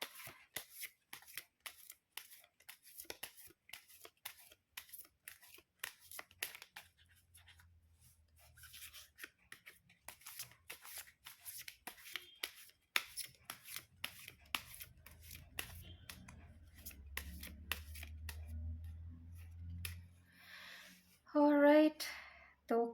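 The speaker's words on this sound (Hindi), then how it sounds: "तो कार्ड्स हो गए हैं शफल गाइस" Tarot cards are shuffled by hand in a string of soft, quiet riffles and rubbing taps. A voice speaks briefly near the end.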